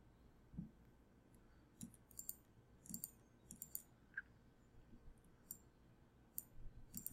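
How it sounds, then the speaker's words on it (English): A computer mouse clicks sharply and irregularly in a quiet room, single and double clicks scattered across a few seconds, faint and close with a low background hum. "double click inside this field, highlight the text, click on the font, add the color"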